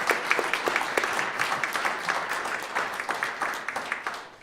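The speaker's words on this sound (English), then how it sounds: "So a round of applause for those that helped with the" Audience applause at a church celebration gathering, a steady dense patter of many hands clapping with crisp individual claps standing out, sustained and fairly loud throughout.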